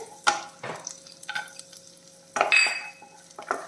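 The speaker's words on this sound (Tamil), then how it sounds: "பூண்டு வந்து ஒரு நிமிஷம் நம்ம வதக்கிடலாம் லோ ஃப்ளேமில் வச்சே பண்ணிக்கோங்க" Chopped garlic sautés in a pan over a low flame under a soft, quiet sizzle, broken by several sharp spoon scrapes and clinks against the pan as it is stirred.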